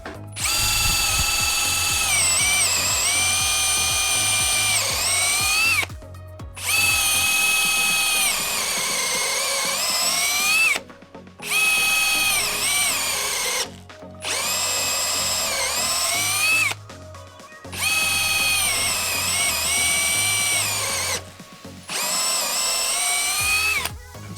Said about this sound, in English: In the next test, we're just gonna drill some holes.